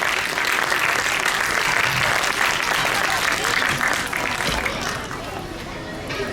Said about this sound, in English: let's take a moment to acknowledge our participants with a big round of applause